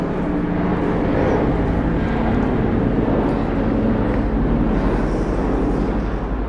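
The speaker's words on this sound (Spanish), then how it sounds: "Vamos a esperar a que se vaya el helicóptero." Helicopter passes overhead with a loud, steady rotor and engine rumble holding across the whole stretch, with no talk over it.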